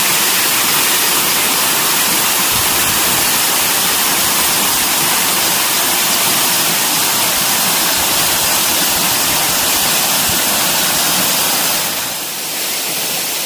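A tropical waterfall in Tacuba, El Salvador, about 15 meters high, pours in a loud, continuous broadband roar close by, steady throughout with no voices.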